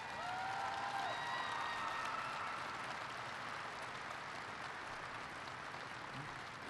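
Audience applause at a Barack Obama event, a steady broadband wash of clapping that fills the whole stretch and stays fairly loud, easing slightly toward the end.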